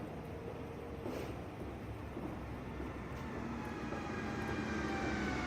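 Fenix A320 airliner in Microsoft Flight Simulator touching down, a steady loud roar of engines and rushing air with a low rumble, continuous throughout with no talk.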